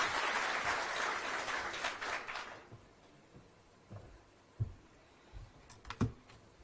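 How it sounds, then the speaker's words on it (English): A crowd at a Kenyan presidential address applauds with dense clapping for a couple of seconds, then it thins out into a few scattered, isolated claps. "We can welcome her with a clap."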